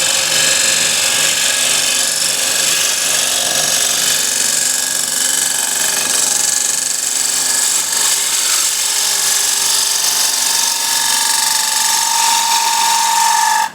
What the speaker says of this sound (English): I'll use the same spindle gouge, just make a nice shear cut